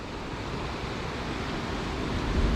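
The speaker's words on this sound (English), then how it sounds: "the churning force of the water coming through the holes under the rocks." Constant rushing roar of sea water surging and churning through holes under rocks on the Scottish coast, loud and close, building slightly toward the end with no voices.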